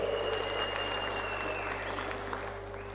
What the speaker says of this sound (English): Please give a huge round of applause for the release of this book, Saundarya Lahari and Shiva Mahimna Stotram